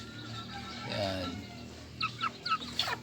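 An old hen of a small backyard flock in a Filipino chicken coop, with bantams nearby, giving a few close, soft clucks, then a quick run of sharper clucks near the end.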